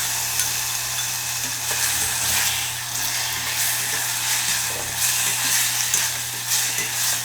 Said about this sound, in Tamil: இந்த ஸ்டேஜில் நம்ம ஊற வச்சு எடுத்துருக்கிற அந்த மட்டன் துண்டுகளையும் இது கூட சேர்த்து மிதமான தீயில வச்சு நல்லா வதக்க போகிறோம்